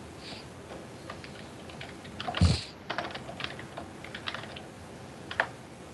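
Quiet keyboard typing, a scattering of irregular key taps with one louder clack partway through, fairly close and otherwise calm.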